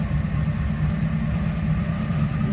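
Ford rat rod engine idling after a cold start, a loud, steady, low rumbling idle with a rough, pulsing exhaust note, close up and continuous with no talking.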